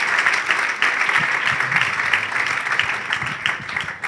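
Audience applause at a start-up award ceremony in a hall, a dense, continuous wash of clapping holding steady at moderate loudness for about four seconds.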